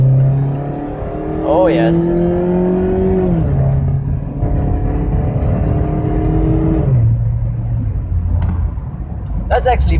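A Mazda Miata pulls away from a roundabout as the automatic transmission kicks down, its engine note rising steadily and shifting pitch twice, loud and close, with brief speech over it.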